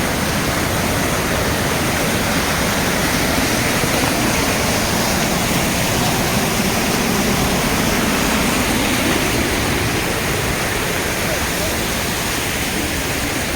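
Floodwater from a rising river in Kullu, Himachal rushes past in a loud, unbroken roar, a dense steady wash that stays constant throughout with no break or voices over it.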